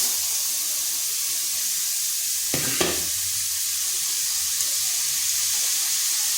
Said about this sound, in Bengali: এখানে একটা কড়াই বসিয়েছি, দিয়ে দিচ্ছি গ্রেট করা পেঁপেটা।